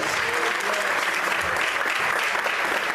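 Steady, dense applause from a church congregation fills the whole stretch at an even, sustained level.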